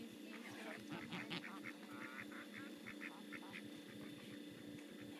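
White geese and ducks at a pond call out in a steady run of nasal honks and quacks, several birds overlapping at close to moderate distance over a constant outdoor background.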